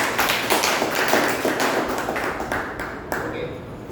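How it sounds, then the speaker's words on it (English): Audience applause at a Toastmasters club meeting, a dense, steady patter of many hands clapping for the full stretch, fairly close and loud, easing off slightly toward the end with a few last claps. "I think a huge round of applause for Toastmasters."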